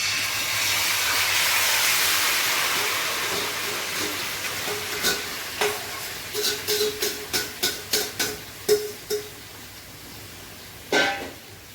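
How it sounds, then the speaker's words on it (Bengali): Meat added to hot oil in a pan sends up a loud, broad hiss that gradually fades, then gives way to a series of sharp pops and crackles near the end. "মাংসটা দিয়ে দিচ্ছি।"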